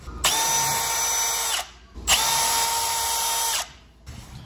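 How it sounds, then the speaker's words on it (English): A power drill whines steadily while drilling rivet holes in metal, in two long bursts of about a second and a half each, separated by a brief pause, loud and close. "I had to drill my holes first to put my rivets in."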